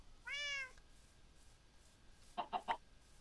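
A cat in the Minecraft modpack Resonant Rise gives a single clear meow, followed a moment later by a quick run of three short clucking bird calls, both fairly faint against a quiet background.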